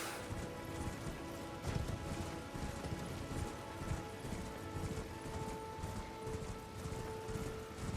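Horse hooves clip-clop in the video game Elden Ring, a steady, rhythmic trot heard fairly faintly over a low ambient game background, with no talking.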